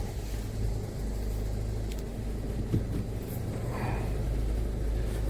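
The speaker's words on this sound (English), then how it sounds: "Let's just start her up and see what the pressure looks like." A 2017 Peugeot 3008 diesel with a blocked particulate filter idles in a workshop, a low, steady, fairly quiet rumble with a few faint clicks and no clear cranking. No one speaks.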